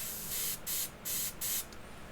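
Airbrush paint spray for skin tones, several short hissing bursts of spray in an even on-off rhythm, moderately close and heard alone.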